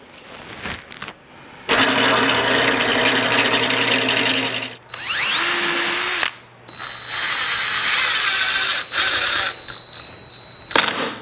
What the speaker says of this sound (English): So I just set the drill press up with a 1/4 inch bit, take the toilet bolt, and going to put a few holes in here